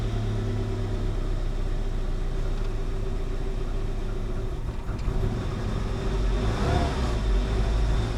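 A Saab 900 Turbo engine runs at a steady, loud idle with a low rumbling drone, then falters briefly when the throttle is given, with a slight rise near the end.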